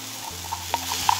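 Crushed garlic and lamb shanks sizzling in a frying pan while cooking at a camp, a steady close hiss broken by a few small pops and stirring taps.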